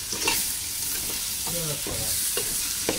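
Polao rice with jira grains being stirred and fried in a pot, scraping spoon strokes over a steady close sizzle, a few distinct stirs across the stretch with no talking.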